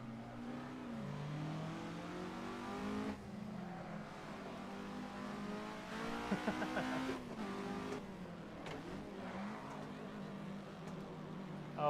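Race cars on a Nurburgring track day, with a Lancia working past a slow MG; engines drone steadily at a distance, rising in a revving surge midway as one car passes, over constant track noise.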